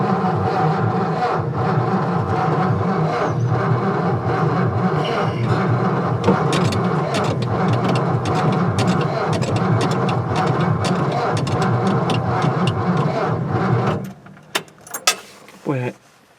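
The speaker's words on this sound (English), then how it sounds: "that 12-volt battery spins the starter a lot faster" A 1955 Ford Fairlane engine runs loud and steady up close with a rough, throbbing idle, then cuts off abruptly, leaving a few clunks, rattles and faint voices.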